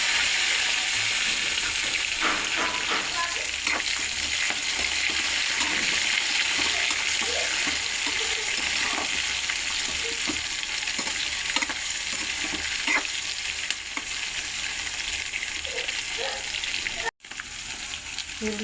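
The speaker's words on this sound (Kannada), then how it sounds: "ಈಗ ಈರುಳ್ಳಿ ಮತ್ತು ಮೆಣಸಿನ್ಕಾಯಿ ಸೇರಿಸ್ಕೊತಿದ್ದೀನಿ." Onions and green chilies frying in hot oil for a bassaru sizzle in a steady, loud hiss with occasional crackles and spatters, continuing without pause, briefly interrupted by a sharp dropout near the end.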